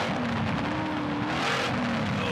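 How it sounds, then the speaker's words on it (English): A V8 engine in a Stadium Super Truck roars through a race in Darwin, a dense, sustained loud drone with a steady pitch that rises slightly, with no talk over it. "How good is that V8 sound?"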